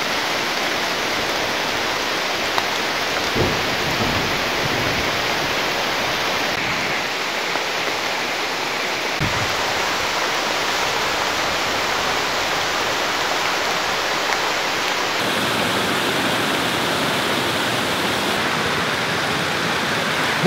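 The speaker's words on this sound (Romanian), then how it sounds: "Băi, plouă" Steady, dense rain falls in a forest, a continuous broadband hiss with no pauses, moderately loud and enveloping.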